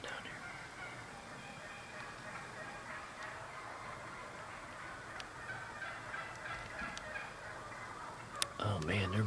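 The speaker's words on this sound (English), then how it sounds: "There's a bunch of turkeys behind me somewhere going crazy." Wild turkeys gobble repeatedly from somewhere behind a hunter in Pennsylvania woods on opening day of rifle deer season, a dense, restless chorus of calls at moderate distance with a sharper noise near the end.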